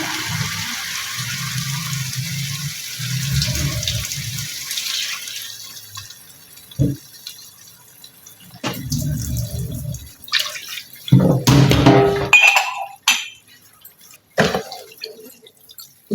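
Water poured into a pot of beef and cauliflower curry, splashing and trickling in short bursts with brief pauses between pours, close and fairly loud in a quiet kitchen.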